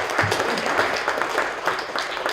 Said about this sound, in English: We'll have a round of applause.